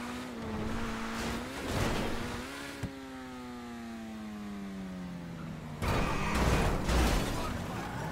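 Grotti Turismo Classic car in GTA V, its engine revving and pitching up then sliding down in a long deceleration, followed by a renewed surge of acceleration, close and loud with no talk.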